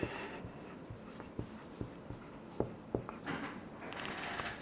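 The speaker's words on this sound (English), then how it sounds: "let me write it down" A pen scratches across paper close by, with short strokes and taps in an uneven rhythm, heard alone and fairly quiet.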